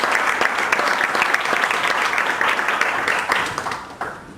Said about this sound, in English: Let's get a big round of applause for Mr. JT Pedersen and Deb Nystrom.